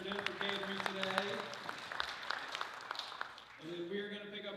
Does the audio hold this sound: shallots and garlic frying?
no